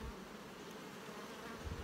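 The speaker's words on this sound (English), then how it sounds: "These are a nice hatch of young bees" Young bees buzzing in a hive, a dense, steady hum that stays level and close throughout with no voices over it.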